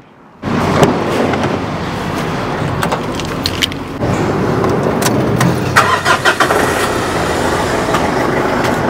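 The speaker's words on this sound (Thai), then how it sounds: "อ่ะเดี๋ยวผมสตาร์ท เครื่องให้ทุกคนได้ชมนะฮะ" A 2011 Mitsubishi Triton four-door pickup's engine cranks and turns over after a brief silence, then settles into a steady, loud idle that runs to the end.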